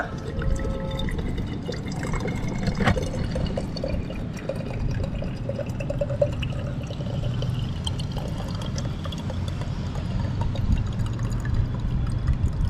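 Coconut water pours and trickles steadily into a glass from a coconut opener, continuous and close, with faint clinks partway through.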